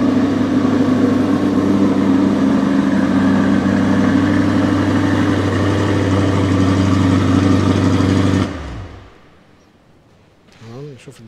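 Red 2023 Chevrolet Corvette C8 convertible idling close by, a steady loud low rumble with a constant hum that cuts off abruptly after about eight seconds, followed by near silence and a faint brief sound at the end.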